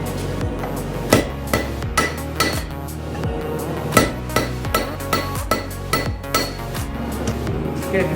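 A blacksmith hammers the boss of railroad spike tongs flat, sharp metallic strikes ringing out at a steady pace of about one per half second, with the odd louder blow over a low background hum.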